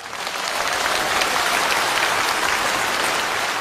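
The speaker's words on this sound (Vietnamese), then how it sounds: "Các vị vỗ tay làm cho sư mãn nguyện quá." Loud, sustained applause from a seated audience at a Buddhist dharma talk. It is a dense, even roar of many hands clapping that holds steady for several seconds, with no voices over it.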